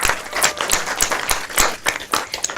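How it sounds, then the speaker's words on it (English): An audience at a university research day clapping for themselves, lively close applause with loud individual claps in an uneven rhythm, continuing throughout. "Can we give ourselves a round of applause?"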